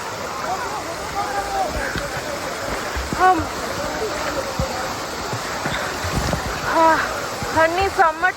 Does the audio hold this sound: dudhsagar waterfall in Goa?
yes